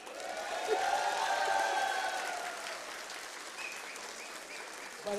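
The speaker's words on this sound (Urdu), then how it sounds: "یہ آپ نے تالیاں تو بجائیں" Audience applause at a speech during a literature festival in Islamabad, a crowd clapping loudly at first with a few cheers, then tapering off over several seconds, with a voice briefly returning at the end.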